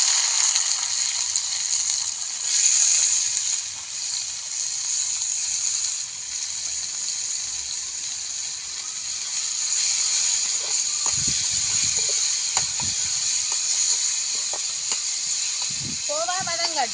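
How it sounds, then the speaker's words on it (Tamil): Khova, a milk solid, sizzles steadily in hot oil in a pan, a constant loud hissing fry throughout, with a person speaking faintly underneath and some clinks near the end. "எண்ணெய் கொஞ்சம் இனி நாங்கள் கோவாவை போடுவோம்."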